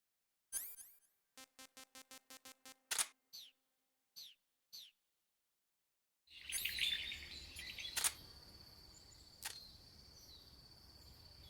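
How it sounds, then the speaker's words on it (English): A parrot calls in Metal Gear Solid 3: clear, close chirps come in a rapid run of short pulses, then a few separate squawks, followed by noisy jungle ambience with sharp bursts. "It is the parrot."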